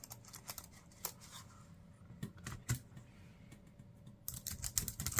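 Soft, quick typing on a bouncy Galaxy Z Fold4 keyboard with a trackpad, a quiet irregular patter of key clicks close up in a calm room.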